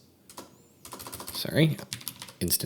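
Fingers tap quick, irregular bursts of keystrokes on a computer keyboard, close by, with brief pauses between runs and a voice faintly heard in between.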